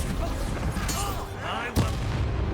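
Bombarda and Confringo spell blasts in Hogwarts Legacy, a couple of sharp explosive bursts with booming low rumble amid continuous game noise, fairly loud and close, with a voice speaking over them.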